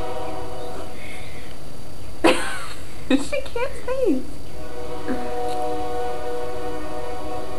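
A distant passing train makes a faint, steady tonal drone that hangs under the whole scene. Close voices speak briefly over it.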